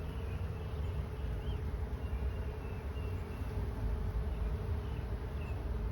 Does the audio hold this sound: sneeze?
no